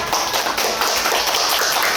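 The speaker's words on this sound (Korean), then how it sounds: "박수로 시작해 주십시오" Applause at a hospital's 10th anniversary ceremony, a crowd clapping steadily and evenly for two seconds, dense and fairly close, with no voices.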